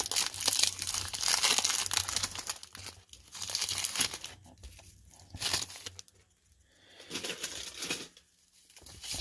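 A 1990 Topps baseball card wax pack is torn open up close, giving loud, continuous crinkling and ripping of wrapper paper in bursts with brief pauses between them.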